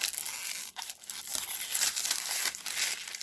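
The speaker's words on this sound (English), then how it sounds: "Having trouble opening up the rack pack, or the cellophane again." Cellophane wrapper on a 1989 Fleer baseball card rack pack being pulled open, loud close crinkling and tearing in bursts with brief pauses.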